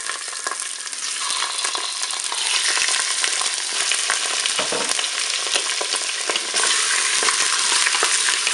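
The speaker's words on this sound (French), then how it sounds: "On va faire revenir les hautes cuisses." Chicken thighs browning in hot oil in a Cookeo pot, a loud, crackling sizzle that builds slightly and holds steady, with faint scrapes and pops, close up and free of talk.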